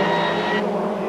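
Ford Sierra touring race cars roar past at speed through a fast curve at a racing circuit, a loud sustained engine drone with a brief pitch shift as they go by.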